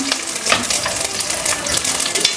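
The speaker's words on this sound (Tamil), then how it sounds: "சூப்புக்கு வந்து வெங்காயம், தக்காளி, பூண்டு, பச்சை மிளகா, பூண்டு வந்து எண்ணெயில் போட்டுடலாம்" Onion, tomato, garlic and green chili fry in hot oil, giving a loud, steady, close sizzle broken by scattered stirring clinks, with no voices.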